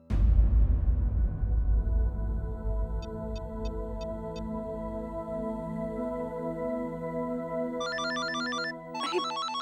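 A telephone rings in a home in a Hindi TV drama, with clear electronic ringing chirps repeating near the end over a lingering sustained tonal backdrop, no voices present.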